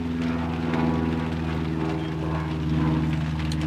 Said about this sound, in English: there's always that plane that goes over while I'm doing a vlog